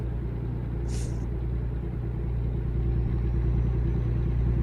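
A truck engine in American Truck Simulator drones in a constant low, rumbling hum, with one brief high chirp early on.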